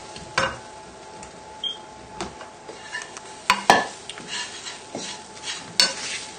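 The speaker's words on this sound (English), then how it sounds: "give this a good stir together to get the croutons nicely coated with the Parmesan" Croutons being stirred with Parmesan in a pan, a utensil scraping and clinking against the metal in irregular strokes, with a faint sizzle underneath and no voices.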